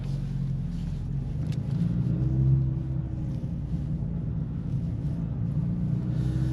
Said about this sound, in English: gonna set the car to the Sport Plus mode